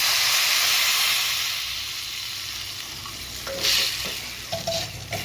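A loud burst of sizzling and hissing steam as water hits a hot pan of dried chickpea-leaf vegetable with turmeric, fading to a steadier bubbling simmer, with a few utensil clinks and scrapes near the end.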